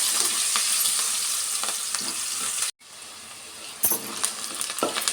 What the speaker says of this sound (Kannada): ಚೆನ್ನಾಗಿ ಈ ಥರ ಫ್ರೈ ಮಾಡ್ಕೊಳ್ಳೋಣ.